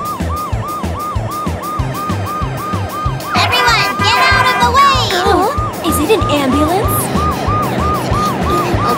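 A wailing cartoon ambulance siren rises and falls steadily throughout, over a thumping rhythmic beat, with brief high chattering voices in the middle.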